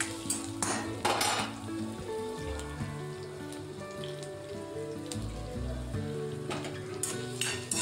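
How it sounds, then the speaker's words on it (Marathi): Onion browning in a pan with chopped tomato, garlic and ginger for Nasik misal: a steady close sizzle under repeated clatter and scrape of a utensil against the pan, with no voices. "कांदा छान आपल्याला ब्राऊन होईपर्यंत परतून घ्यायचा आहे, आणि त्यामध्येच आपल्याला हा बारीक केलेला टोमॅटो आणि लसूण आणि आल्याचा तुकडा आपल्याला यामध्ये ॲड करायचा आहे"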